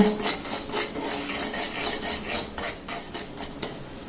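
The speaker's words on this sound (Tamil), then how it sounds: "இதை ஃப்ளேம் கொஞ்சம் சின்னதிலே வச்சு நல்லா வறுத்துக்கலாம்" Rock salt dry roasting in a pan over a low flame: rhythmic gritty scraping and rubbing of a spatula through the coarse grains, close and fairly loud, with no voices.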